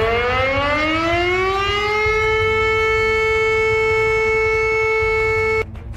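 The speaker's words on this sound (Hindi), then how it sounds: "सायरन बजने लगता है।" A civil defense siren warning of a nuclear attack winds up from low to a loud sustained wail, holding steady for several seconds before cutting off abruptly.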